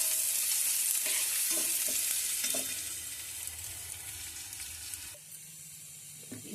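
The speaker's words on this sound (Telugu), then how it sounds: "ఈ ఉల్లిపాయ ముక్కలు బాగా ఫ్రై చేసుకోవాలి." Thinly cut onion pieces fry in a few spoons of oil, giving a steady close sizzle with occasional stirring scrapes, softening somewhat midway and continuing quietly.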